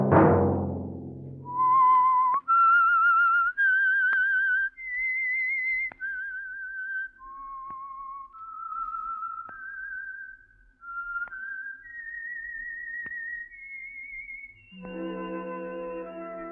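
A lone whistler carries a slow, eerie melody of held notes rising and falling, following a brief opening hit, before music enters at the end.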